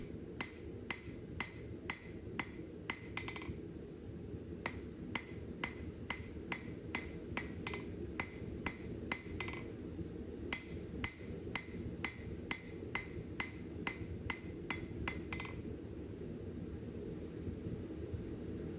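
Sharp metallic hammer blows on an anvil ring out in quick regular bursts, pausing briefly between runs, over a low steady background rumble, as blacksmith stock is rotated and rounded from an octagon.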